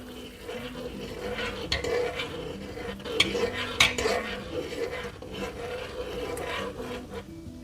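A whisk stirring egg into hot soup in a pot, with continuous scraping and swishing against the pot and a few sharper metallic clinks, close and steady.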